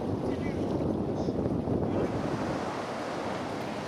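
Ocean surf breaking where the open sea meets a coral reef off Caye Caulker, Belize, a continuous roaring wash of waves mixed with gusty wind buffeting the microphone.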